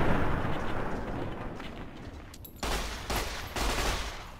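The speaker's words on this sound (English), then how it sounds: "Man's just wasting all of his ammo on this one guy." Gunfire in the video game Fallout New Vegas, a dense, continuous barrage of shots with booming bursts that swell again toward the end, loud and close with no talking.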